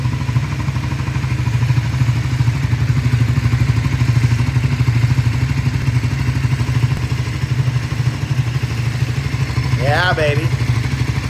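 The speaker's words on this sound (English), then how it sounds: "That's how it starts up. And we just, ooh. Okay, let me get down in there so you can hear this." Triumph Scrambler 400X single-cylinder motorcycle idling steadily close by, a throbbing engine with a rattly mechanical edge throughout, with a brief voice near the end.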